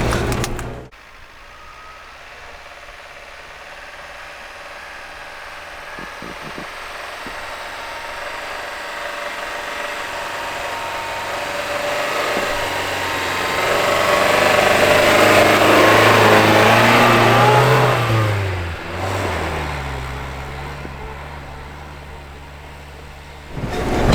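A car engine hums steadily while driving, then rises in a louder strained rev climbing a slope before easing back down; no talking.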